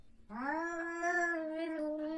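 A cat yowls in one long, loud, drawn-out wavering cry that rises and holds for about two seconds, close by and with no other sound.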